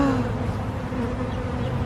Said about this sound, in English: I can't really close up the hive with all these bees out here.